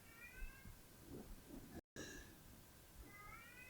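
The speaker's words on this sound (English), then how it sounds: "The cat is yelling at me." A cat meows loudly nearby in several drawn-out, insistent cries, first a short pair, then a brief cut, then another call, over quiet room noise.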